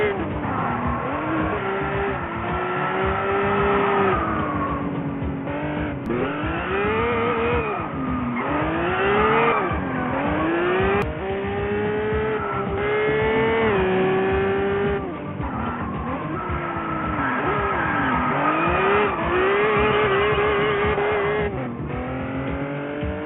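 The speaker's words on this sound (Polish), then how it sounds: "Nieźle to auto wchodzi w zakręty." A drift car's engine revs hard on Oahu with rising and falling pitch as tires squeal through repeated turns, loud and continuous, with occasional voices underneath.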